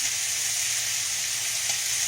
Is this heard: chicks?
no